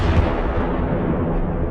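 Sound effect of the red star Antares exploding, a heavy booming rumble with deep low-end weight, loud and continuous, dying slowly without a clear attack.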